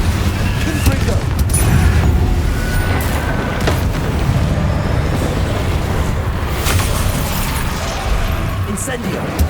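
Confringo fire-blast spells in the Hogwarts Legacy video game burst in a rapid fusillade of booms and pops, loud and dense, while a voice shouts spell names over the blasts.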